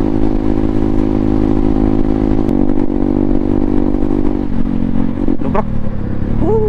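A Yamaha NMAX motorcycle rides over a potholed bypass road from Dingalan to Baler in Aurora, its engine droning steadily and loudly throughout, with small clattering jolts and a brief rise in revs near the end.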